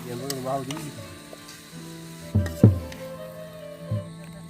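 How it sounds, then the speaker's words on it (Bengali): Meat curry sizzles in a pot over a campsite fire in a Bangladeshi village, with a voice briefly at the start, then a steady fry broken by two sharp metal-scraping stirs and one later clink. "আর এখন চলছে মাংস রান্না"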